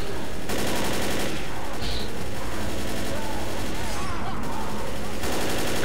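Rapid gunfire from the video game Left 4 Dead rattles in dense, loud bursts with brief pauses between volleys, amid heavy game noise.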